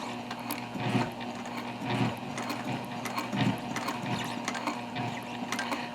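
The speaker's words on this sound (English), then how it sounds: "I'm going to sew across right on top of that first line of stitching there" A sewing machine stitches across a zip-top tote bag, running in short bursts with a low motor hum and rapid mechanical ticking of the needle, close and steady, with brief pauses between runs.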